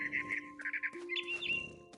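A mother bird calls in the video game What Remains of Edith Finch, giving a close series of bright, repeated chirps and squawks over a steady electronic hum, with no talk.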